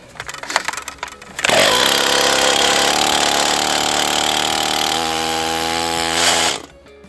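Petrol chainsaw in a winter forest at minus 28 degrees, frozen in the frost: after a few seconds of rustling, the engine roars loudly and steadily for about five seconds, then cuts off abruptly.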